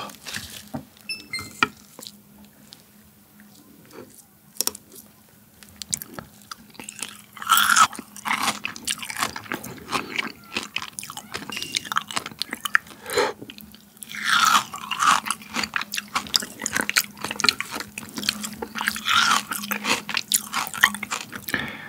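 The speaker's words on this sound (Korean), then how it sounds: "이거 한번 잘라서 먹어볼게요" Close crunchy chewing and biting on frozen king crab sliced thin and eaten with wasabi soy sauce, with irregular crisp bites and occasional clinks of dishes or cutlery, and no talking.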